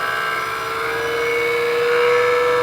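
A barn-find Chevelle's engine during a tune-up with points being set, revving up slightly from just over 1,000 RPM. It gives a steady, loud, close mechanical drone that rises gently in pitch.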